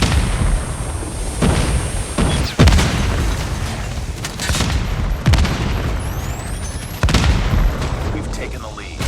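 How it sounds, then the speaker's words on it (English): Predator missile blasts and other explosions boom repeatedly in Call of Duty Mobile, with several heavy, loud hits spaced a second or two apart over constant battlefield noise. "Friendly Predator missile inbound"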